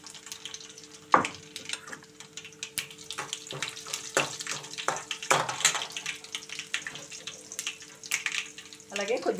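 Crushed garlic and curry leaves frying in tempering oil for an ivy gourd stir-fry, an uneven sizzle with sharp crackles and bursts as leaves hit the oil, close and moderately loud.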